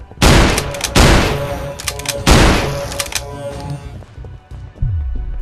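A powerful shotgun in a sport-mode VR shooting game fires four loud, booming blasts in quick succession, each followed by a short ringing tail and mechanical clatter, then a final heavier thud.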